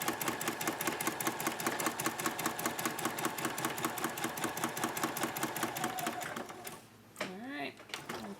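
A sewing machine stitches fabric for a homemade protective mask, a fast steady mechanical chatter of needle strokes running close and loud before it stops, after which a voice speaks briefly.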